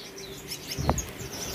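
Ordinary Gouldian finches in a breeding setup, birds partway through their moult, give a few faint high chirps followed by one brief, louder close call, with no talking.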